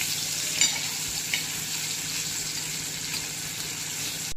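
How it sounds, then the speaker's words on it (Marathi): Village-style fish frying in a pan gives off a steady, close, hissing sizzle that continues throughout, with a couple of faint clinks of a utensil early on. "मासे छान फ्राय झाले."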